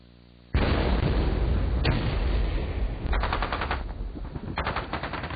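Cannon fire in a bombardment of the Kronstadt naval base near Petrograd: a sudden loud barrage of blasts and rapid bursts rolling on without pause, with no talk.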